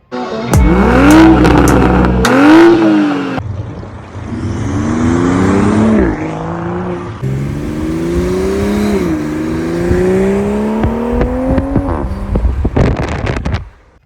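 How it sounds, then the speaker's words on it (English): A 2021 Toyota Supra with stock exhaust revs hard several times, rising and falling in pitch, loud and close, with burbling exhaust between pulls. "it's amazing to see what a stock exhaust sounds like"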